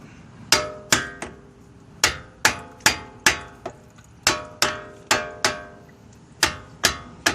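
A hammer strikes a Ford truck brake caliper in sharp metallic clanks, about fifteen blows in uneven clusters, close and ringing, with no talk.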